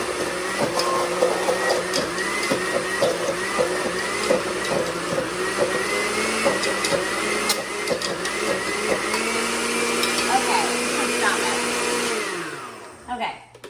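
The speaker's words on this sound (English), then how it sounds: "It's probably my blender because you probably have a better blender at home." A home blender whirs as it mixes chocolate chip cookie dough made with garbanzo beans, a loud continuous motor drone with shifting pitch that winds down and stops near the end.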